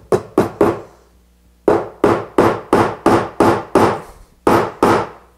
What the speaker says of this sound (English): A little hammer.